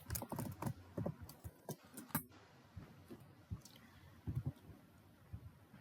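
Someone types on a computer keyboard while deleting code, making quiet, irregular clusters of key taps with short pauses between bursts.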